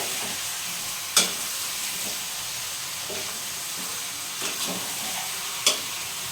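Chicken pieces with onions stirred in a full pot on the stove, a steady frying sizzle underneath with two sharp scraping clacks of the spoon and a few softer stirring knocks, no talking.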